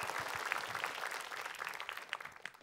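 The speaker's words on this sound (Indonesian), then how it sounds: "kalau gitu langsung aja kita dengarkan tepuk tangan dulu untuk Ustazah Oki." A crowd at an Islamic religious gathering claps for Ustazah Oki, a continuous patter of many hands at moderate distance with scattered sharper claps standing out near the end.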